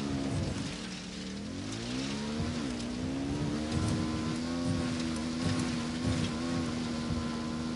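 A motorbike engine in the video game Ghost Recon Wildlands, ridden in a PS4 Pro co-op session, holds a steady loud droning tone with slight pitch swells throughout, running continuously without talk.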